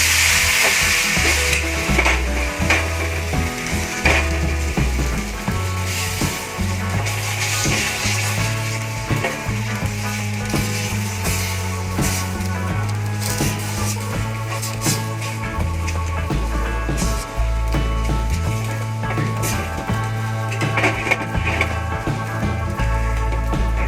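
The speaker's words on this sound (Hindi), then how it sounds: "तो अब इस पर इस तरीके से बैटर को डाल देना है।" Rava uttapam batter hits an oiled hot tawa and sizzles steadily, a close frying hiss running throughout under prominent background music, with no talk.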